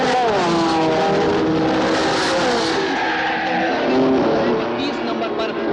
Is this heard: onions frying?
no